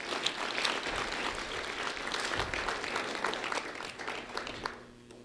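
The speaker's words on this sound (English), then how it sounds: "Round of applause." Audience applause at a community recognition ceremony, a steady wash of many hands clapping at moderate volume that carries on evenly before fading out near the end.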